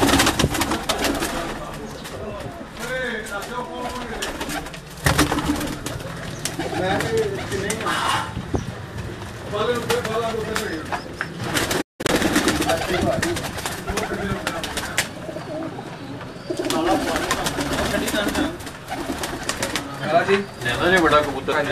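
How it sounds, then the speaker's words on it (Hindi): Fantail pigeons cooing nearby, soft repeated coos running through the whole stretch beneath someone talking steadily. "उनके हाथ में अभी ये मैं आपको ये कबूतर दिखा रहा हूँ फनियर कबूतर"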